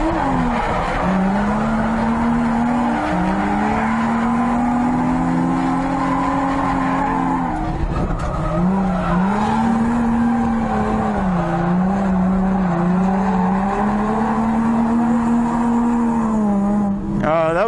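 A Nissan 350Z drifting at a drift event, its engine droning with wavering revs under a continuous loud tire squeal, dipping briefly midway before the screech resumes, no voices.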